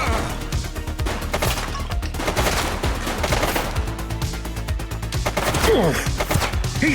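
Gunfire in the police action game The Precinct: rapid bursts of automatic fire with sharp, dense cracks running steadily throughout, loud and close, with a few scattered impact sounds mixed in.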